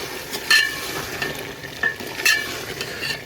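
Chicken karahi with coarsely crushed cumin and garam masala is mixed in a pan, with a few sharp scrapes of a spoon over a continuous frying sizzle and no speech.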